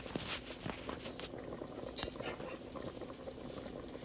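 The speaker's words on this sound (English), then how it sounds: "we're going to let it simmer some more" Potato soup simmering in a pot, a quiet, steady bubbling with soft irregular pops and gentle liquid patter, close and faint, with no talking.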